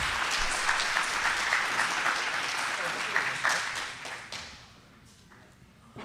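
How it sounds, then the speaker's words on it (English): Audience applause as a guest speaker is brought onto the stage at a live debate event, a dense wash of clapping that holds steady for several seconds, then thins and fades out while a voice talks. "Give him a round of applause"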